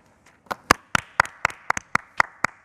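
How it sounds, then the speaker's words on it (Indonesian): Sparse, slow hand clapping from a small audience at a stand-up comedy competition audition, about ten separate claps in an irregular rhythm, close and fairly crisp, with no voices over them. "Tepuk tangan buat Rino."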